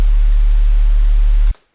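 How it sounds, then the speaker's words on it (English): Steady broadband white noise layered over a deep, constant sub bass tone, hissing evenly for about a second and a half before cutting off abruptly to silence. "So the key to distorting these sub bass is adding in white noise."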